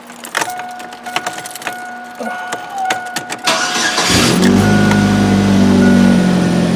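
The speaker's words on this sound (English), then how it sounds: "let's go ahead and start up the truck." A Chevy S10 truck's engine starts after keys jangle and a few clicks. It cranks briefly, then settles into a loud, steady idle for the remaining seconds.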